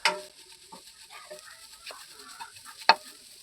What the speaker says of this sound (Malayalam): ഇതൊന്ന് നന്നായിട്ട് ഡ്രൈ ആവണ വരെ നമുക്കിതൊന്ന് ഇളക്കി കൊടുക്കാം.